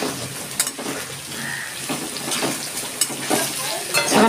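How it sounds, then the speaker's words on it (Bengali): Taro stem pieces fry in a pan with salt and turmeric, making a constant crackling sizzle up close, punctuated by repeated scraping and tapping as they are stirred. "আমার কচুর গাঁটিটা ভাজা হয়ে গেছে, আমি এবার তুলে নিচ্ছি।"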